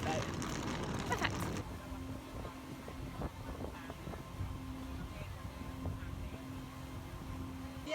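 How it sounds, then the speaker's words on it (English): A speedboat rides across the sea, its engine a steady low drone under wind noise and water, preceded by a burst of louder rushing wind buffeting the microphone. "you get straight off the minibus and you get onto the speedboat"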